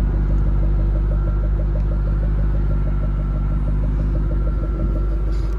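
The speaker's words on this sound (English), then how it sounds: "You can hear the exhaust." A 2000 Qvale Mangusta sports car idles steadily with a deep, continuous exhaust burble and a throbbing low rumble, close and loud, with no voices.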